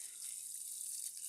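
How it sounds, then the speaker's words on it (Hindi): Water poured onto a potted plant: a faint, steady hiss of running water holds evenly throughout, with no other sounds. "अब मैं उस पौधे में पानी डाल लूँ जल्दी से"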